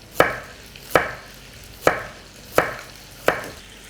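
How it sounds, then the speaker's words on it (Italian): A knife slices through an onion on a cutting board in five sharp, evenly spaced cuts, each a crisp close thud with a brief crunch, and near silence between strokes. "Ora affetto la cipolla"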